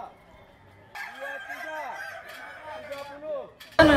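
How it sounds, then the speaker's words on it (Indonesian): A Kukuak Balenggek rooster at a crowing contest gives a long, drawn-out crow rising and falling in stepped tiers, loud and close, with other crowing faintly behind. "Masing-masing ayam kukuak Balengge ini memiliki irama khas dan bunyi kokoknya yang"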